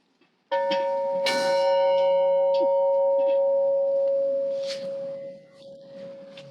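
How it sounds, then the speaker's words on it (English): An old one-room schoolhouse tower bell rings once up close, a bright clang followed by a long, sustained, slowly fading hum that lingers for several seconds. "This bell was one of 3 that hung at different times of the school's history in the tower above the school."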